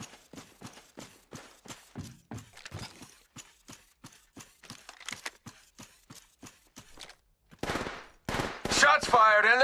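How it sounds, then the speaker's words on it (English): Rapid gunfire in Apex Legends Mobile on Kings Canyon, a long run of sharp regular shots up close, followed by louder bursts and a brief in-game voice line. "Shots fired, and they're hitting me!"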